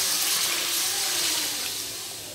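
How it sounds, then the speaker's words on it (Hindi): Water is poured in a steady gushing stream that splashes into a cooking pot of fried spices, tapering off near the end. "पानी डालेंगे।"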